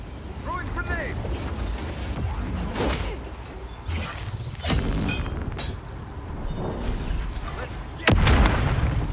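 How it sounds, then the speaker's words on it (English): A grenade goes off in Dune Awakening amid ongoing combat, several heavy booms and blasts rolling through a noisy battle, with players talking over the action. "Throwing grenade."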